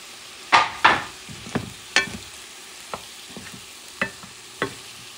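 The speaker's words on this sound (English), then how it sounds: "Now I'm going to add the sausages and make it the third method cooking." Sausages going into a pan with sofrito and sauce for Louisiana-style sausages and grits, a soft sizzle under several clattering stirs and utensil knocks at an uneven pace, close and moderately loud, no talking.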